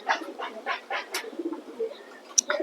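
A racing pigeon coos close by in a quick series of soft, throaty pulses, with one sharp chirp near the end.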